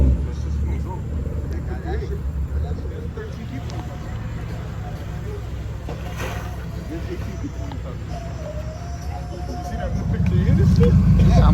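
A Hyundai Genesis engine rumbles at a Thursday night car meet in Central Florida, a low steady drone beneath nearby talk that grows louder toward the end.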